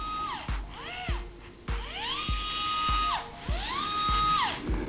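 A MINI ES121 gyroscope-controlled smart screwdriver motor whirs in repeated short bursts, each pitch rising then falling as it spins up and slows, close and fairly loud with brief pauses between runs.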